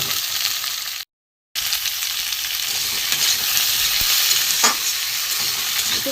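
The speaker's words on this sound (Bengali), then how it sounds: "আলুটা ভেজে নেব" Potatoes fry in a small amount of oil in a pan with a continuous close sizzle and occasional stirring scrapes, broken once by a short gap of silence.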